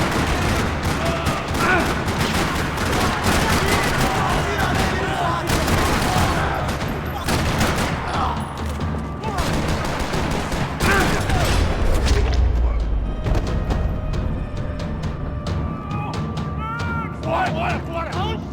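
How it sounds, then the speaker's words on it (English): Gunfire in the video game Max Payne 3 crackles through a parking lot shootout, with dense bursts of loud shots and booms layered over game music, as a voice talks over the action. "Parking lot rattling with gunfire."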